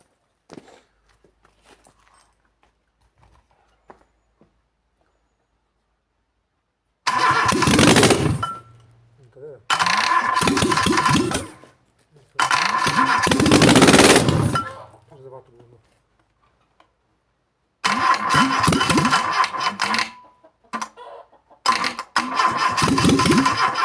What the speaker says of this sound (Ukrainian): мотор заводиться